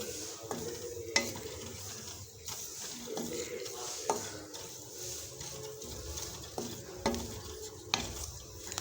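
Grated coconut and onion roasting in a pan, stirred with a spatula that scrapes and knocks against the metal at irregular moments over a steady low sizzle, close and moderately quiet.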